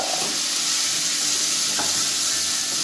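Mushrooms sauté in a hot pan with a steady broad sizzle, and a utensil scrapes and stirs through them at close range for a few seconds. Nobody speaks.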